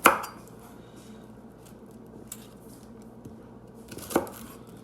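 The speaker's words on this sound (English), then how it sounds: "I got a few Brussels sprouts that we'll just cut and peel." A knife cuts Brussels sprouts with one sharp chop at the start and another near the end, and quieter kitchen clatter sits between them.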